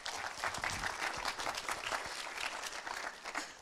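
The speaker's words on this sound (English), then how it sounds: "Let's give them one more round of applause, please." An audience at a public presentation and awards event gives a steady, dense round of applause, with many hands clapping continuously at a moderate distance.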